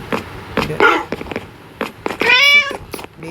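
A Minecraft cat gives several short meows, with one longer, clearer meow in the middle. The calls are close and come in separate bursts against a quiet background.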